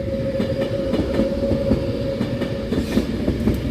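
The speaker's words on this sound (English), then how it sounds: "39115 leaving Preston platform 4 for London Euston" A Class 390 electric train pulls out of platform 4 at Preston station bound for London Euston, a loud close rumble with rhythmic wheel clatter over rail joints and no voices.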